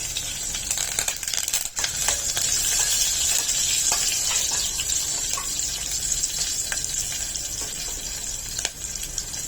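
Green chillies and curry leaves sizzle in hot oil, a steady bright hiss with faint stirring clatter, close and continuous with no talk.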